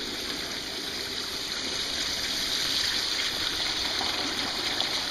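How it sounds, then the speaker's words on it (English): Steady water flowing and splashing into a gold prospecting header box made with milk crates, fed by a spraying hose and pipe, a constant close rushing wash with no breaks. "you can see how the water is running in to the header box"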